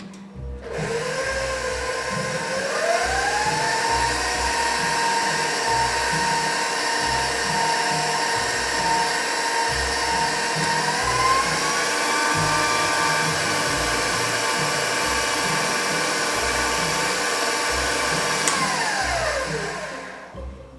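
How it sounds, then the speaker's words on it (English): An electric stand mixer with a paddle beater whirs steadily through cookie dough, ramping up in pitch after starting, holding a constant high hum, then winding down at the end. "Get it all off the beater or the paddle and mix again."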